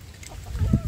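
Free-range village chickens clucking at morning feeding time as they are given leftover rice mixed with rice bran and food scraps; soft, close clucks build toward the end of the short moment, with no talk.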